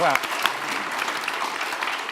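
Audience applause at a panel discussion, a steady wash of clapping under and alongside talking voices, fairly close and sustained throughout.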